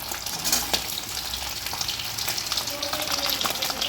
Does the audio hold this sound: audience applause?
no